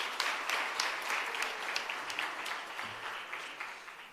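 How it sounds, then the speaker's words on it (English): A workshop audience gives another round of applause, with individual claps standing out sharply within a moderate, slowly thinning patter. "Another round of applause,"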